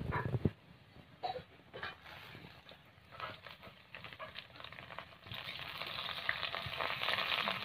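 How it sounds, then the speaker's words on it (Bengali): Aubergine pieces frying in a pan with oil after potatoes, for a red spinach dish cooked with a fish head: a steady close sizzle with scattered pops and spatter, rising and fuller in the second half. "বেগুনগুলোকেও ভালো করে ভেজে নিতে হবে।"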